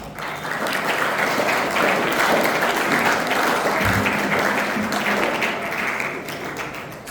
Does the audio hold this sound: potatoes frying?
no